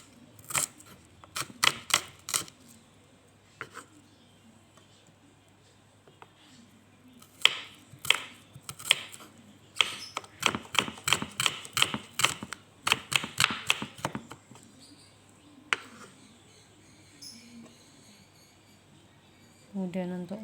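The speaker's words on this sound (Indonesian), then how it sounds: "Kemudian bawang merahnya kita rajang tipis-tipis." A knife thinly slices shallots on a board in crisp, rapid bursts of sharp chopping taps, with short pauses between runs, close and clear.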